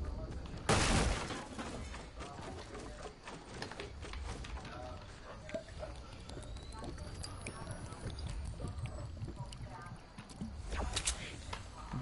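Gunfire in a Fortnite solo match, rapid bursts of shots with a sharp loud burst near the start and another near the end, over constant game noise and a player talking throughout.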